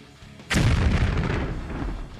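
An FPV drone strike explosion on a battlefield: one sudden, heavy blast that cuts off near silence, followed by a long, loud rumbling roar that slowly fades, with no voices.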